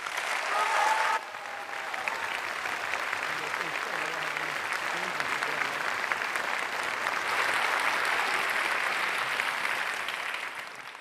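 A large audience at a Nobel lecture applauds in welcome of Demis Hassabis, a full, sustained wash of clapping lasting about ten seconds, briefly preceded by a speaker's voice and swelling again near the end.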